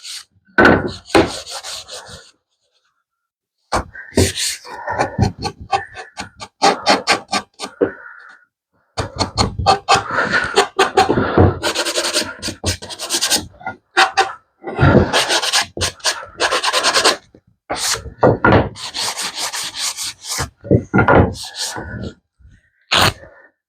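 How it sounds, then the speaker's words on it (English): Wooden shelf parts cut from 1x4 board being smoothed with a hand sanding block, giving repeated loud rasping back-and-forth strokes in bursts with short pauses between them. "Just sand them down a little, sand block, make it a little easier."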